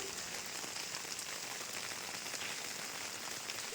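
Rain falls steadily on plants and white-flowered shrubs outdoors, making a continuous, even hiss of drops with no breaks, fairly soft and diffuse throughout.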